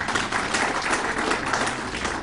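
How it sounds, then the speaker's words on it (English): Audience applause at a corporate full-year financial results event, a steady wash of moderate clapping from a room of attendees, fairly distant and even throughout. "Let's give them a round of applause."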